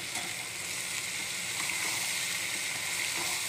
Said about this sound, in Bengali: এবারে আমি দিয়ে দিচ্ছি তেলের ওপরে আমার সেদ্ধ করা ছোলাটা